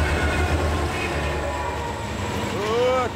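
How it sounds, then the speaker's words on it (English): A train rumbles past close by under a steady low roar, with a horn sounding near the end. "Oh, a train!"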